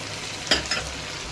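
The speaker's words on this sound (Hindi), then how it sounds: "भिंडी इसमें डल गई अब इसकी मिक्सिंग करेंगे" Okra being stirred into onions and tomatoes in a pan for a bhindi and chicken dish, giving a short scrape or two over a faint background sizzle.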